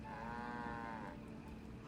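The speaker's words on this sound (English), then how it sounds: "Why is there a cow there?" A cow moos once in a long, low, drawn-out call inside a Nancy Drew video game, the in-game sound heard alone for about a second before fading to quiet background.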